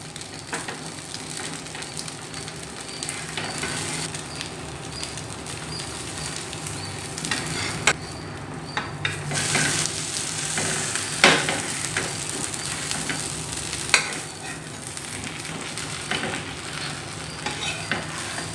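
Hotel-style masala dosa frying on a pan at home, a steady close sizzle with occasional scraping and stirring sounds, no one speaking.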